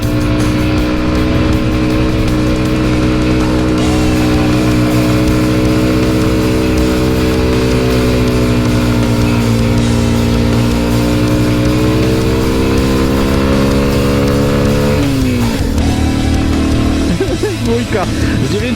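A Junak RX 1 motorcycle carrying two riders climbs a hill in first gear, its engine droning loud and steady close by with slowly rising pitch, then a brief shift in tone near the end.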